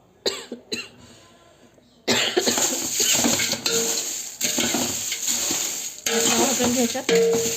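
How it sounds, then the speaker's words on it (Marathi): Whole chillies dry roasting in a pan for homemade masala. A spatula scrapes and stirs against the metal over a faint sizzle, and someone coughs sharply and repeatedly nearby. "त्यानंतर आपण मसाला भाजून घेणार आहे हे पहा इथं मिरच्या भाजून झालेल्या आहेत"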